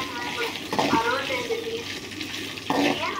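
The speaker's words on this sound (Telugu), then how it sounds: "ముందుగా ఆయిల్ వేసుకొని ధనియాలు, ఎండుమిరపకాయలు, జీలకర్ర వేసి ద్వారగా వేయించుకోవాలండి" Coriander seeds, dried red chillies and cumin fry in hot oil with a close, steady sizzle, broken by two scraping stirs of a utensil in the pan.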